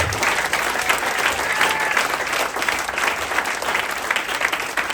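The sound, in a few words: congregation applause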